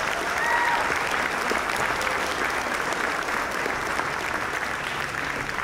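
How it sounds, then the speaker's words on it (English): An audience applauds an orchestra at a 2022 concert in Evart, a full, sustained round of clapping from a crowd that stays steady throughout, with a faint whistle or cheer near the start. "Give them a round of applause"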